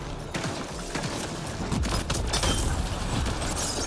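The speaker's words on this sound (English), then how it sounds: "need the shotgun" Shotgun blasts in the sci-fi shooter Mass Effect Andromeda, several loud booming shots in quick irregular succession amid combat noise, with no talking.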